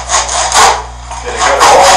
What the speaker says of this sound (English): I'm going to use a crosscut saw here